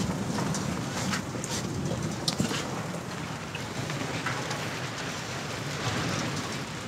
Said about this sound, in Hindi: बारिश शुरू हो चुकी है, बारिश शुरू थी गई है